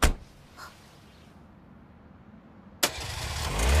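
A car engine starts abruptly after a quiet stretch with a faint earlier thud, then rises into a steady rumble as the car pulls away, in an anime scene.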